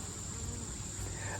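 Honeybees buzzing at a backyard hive set up as a double-decker box, a steady, close insect drone that holds without a break.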